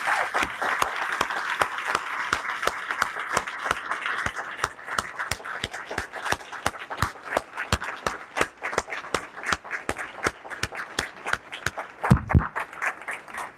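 A room full of people applauds at a county government address, a dense wash of clapping carrying steadily for the whole stretch with strong individual claps punching through, moderately close and sustained.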